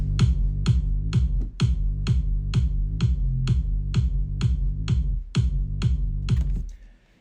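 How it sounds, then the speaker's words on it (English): A punchy kick drum from an electro house track thumps in a steady, evenly spaced four-on-the-floor pattern, about fourteen booming hits with short decays before it cuts off. "I really like this punchy kick"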